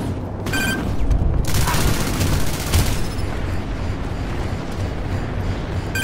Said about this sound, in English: What are you guys even shooting at?